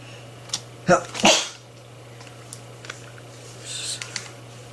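Two quick sneezes break out close together over a faint steady hum, followed by light clicks and rustles in a quiet room.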